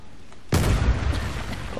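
A bomb detonates in the video game Uncharted: The Lost Legacy, a sudden loud boom that cuts in after a quiet start and then rumbles and debris-crackles for over a second.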